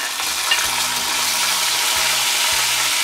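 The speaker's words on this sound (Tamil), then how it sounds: "இப்போது சின்ன வெங்காயம் சேர்த்துக்கலாம்" Shallots fry in sesame oil for a hotel-style vathal kuzhambu, producing a loud, dense and steady hissing sizzle close by, with a faint low tonal murmur underneath.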